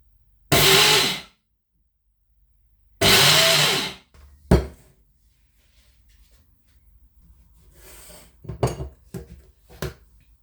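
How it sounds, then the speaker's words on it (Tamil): An electric mixer grinder coarse-grinding rice flour in two short bursts, each about a second long and loud, followed by scattered clinks and knocks of the jar and utensils. "ஒரு ரெண்டு சுத்துக்கு நாங்கள் மாவை அரைப்போம்"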